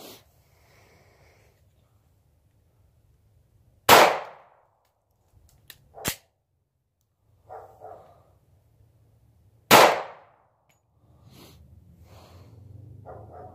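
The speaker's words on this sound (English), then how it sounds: "So I'm gonna be shooting two rounds and then we're gonna see what the damage is." Two Federal .45 ACP 230 grain hollow point rounds fired outdoors, two sharp loud reports several seconds apart with small clatter and faint rustling between.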